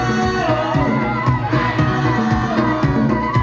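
A crowd at a live rap show in Perdagangan shouts and cheers loudly and continuously, with whoops and rhythmic chanting close by.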